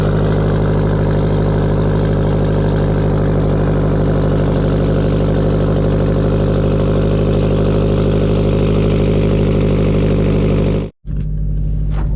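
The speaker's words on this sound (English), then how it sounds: "Let's get you that cold start" Subaru WRX STI engine running loud and steady after a cold start, a dense low rumble with a strong idle drone held for about eleven seconds, then cut off abruptly and briefly before faintly resuming.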